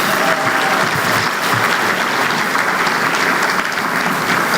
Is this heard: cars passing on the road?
no